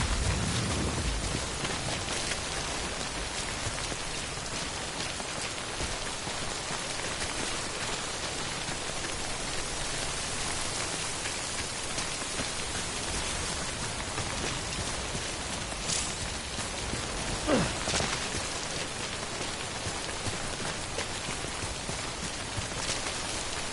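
Steady rain falling for the whole stretch, a dense even hiss of drops on surfaces, with a faint rumble of distant thunder near the end.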